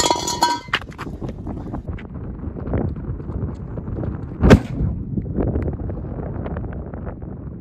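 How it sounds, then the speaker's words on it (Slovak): A Big Bang 5-gram F4-category firecracker explodes under a pot outdoors, one sharp loud bang midway through amid wind noise and rustling, with a brief burst of hiss and crackle at the start. "ako ďalšiu petardu Big Bang 5 gramový, kategória F4, to bude trošku lepší výbuch"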